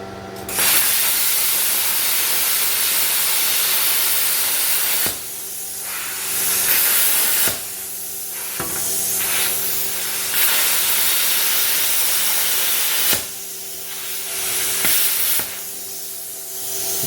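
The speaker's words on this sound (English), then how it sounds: "Let's see how it cuts this aluminum diamond plate" ArcCaptain Cut55 plasma cutter slicing through aluminum diamond plate, a loud, harsh hissing roar with a steady hum beneath it, pausing briefly several times between cut passes.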